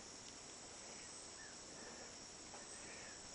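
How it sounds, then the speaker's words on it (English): Insects in the Amazon jungle of Brazil chirp in a dense, continuous high-pitched drone, steady and faint, with no voices and only scattered brief calls rising above the wash. "This is the sound of the jungle."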